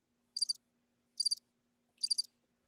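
Crickets chirp in three short, evenly spaced bursts, each a rapid pulsed trill, against an otherwise quiet background with a faint steady low hum.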